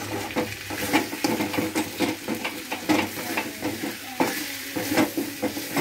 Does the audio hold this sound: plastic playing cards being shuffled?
no